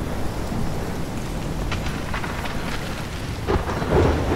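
A thunderstorm in the video game Life Is Strange, set in Oregon: steady heavy rain and wind form a dense roar, with rumbling thunder swelling toward the end and no talking.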